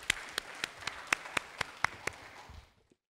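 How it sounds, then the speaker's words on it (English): A small audience claps, sharp separate claps at a steady pace, fading out after a few seconds. "A round of applause to our panelists."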